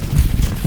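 Hooves of a walking horse in a field, a quick run of close, loud dull clip-clops in an uneven rhythm over a steady outdoor background, with no speech.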